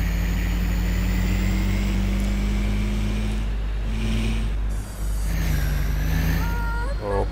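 South Sulawesi truck on a dangerous mountain road, its engine droning steadily with loud hissing bursts of air brakes, plus road noise and faint beeps near the end.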